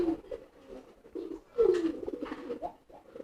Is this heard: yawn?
no